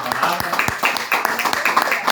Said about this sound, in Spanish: denle una ofrenda de palmas al Señor, hermanos